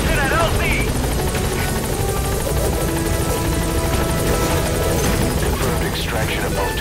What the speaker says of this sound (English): The chopper will be able to get in close now.